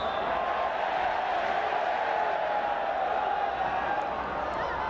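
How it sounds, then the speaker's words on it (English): Football crowd in a stadium with a contingent of Ninh Binh fans, a steady broad roar of many voices cheering throughout, continuous and moderately loud with no breaks. "There's clearly a decent contingent of Ninh Binh fans in the crowd now, cheering every time the referee gives a decision their way."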